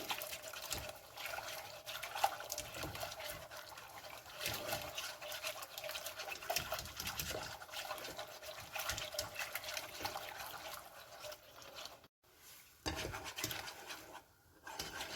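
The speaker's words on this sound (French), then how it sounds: "On fouette bien, on va voir que ça commence à épaissir." A whisk beating a thickening sauce in a pot for mussels poulette, continuous scraping and swishing strokes up close in a steady rhythm, with a brief pause near the end.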